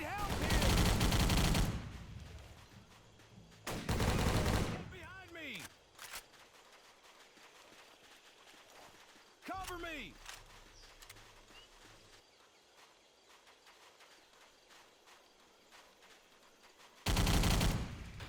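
Bursts of video game gunfire ring out during a jungle ambush, loud clustered volleys of automatic shots separated by quieter stretches with scattered single shots and faint game ambience.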